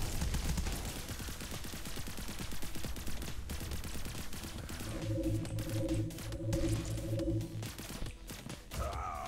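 Rapid gunfire aimed at a werewolf in FPS Survivors, a shooter against vampire hunters: dense bursts of shots crackle continuously, and a stretch of tonal game effects sounds partway through the barrage.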